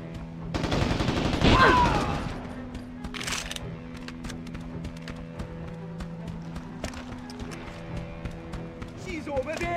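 Gunfire from the Mercenaries 2: World in Flames video game, a loud burst early on and then scattered shots under game dialogue and background noise.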